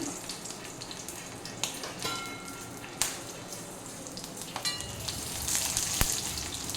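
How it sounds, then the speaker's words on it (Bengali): Green chillies and grated coconut fry in a little hot mustard oil, a soft continuous sizzle dotted with sharp pops and spatters, fairly quiet and close. "কাঁচা লঙ্কাটা একটু কেটে দিয়েছি না তো এটা ছিটকায় খুব"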